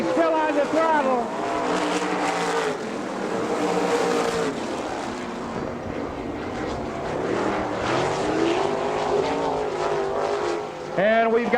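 410 sprint car engines roar at full throttle at Butler Motor Speedway, rising and falling as cars pass, with a commentator talking over the noise.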